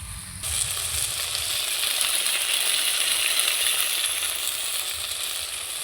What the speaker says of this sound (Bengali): মশলা দিয়ে আমার খুব সুন্দর করে মোচাটা চালটা ভাজা হয়ে গেছে আমার